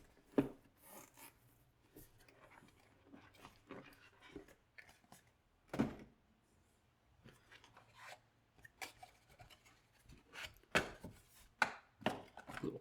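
A Logitech G915 keyboard box is opened, with faint, scattered scraping, tearing and sharp cardboard-and-paper crinkles and taps, several louder snaps clustered near the end, in a quiet room.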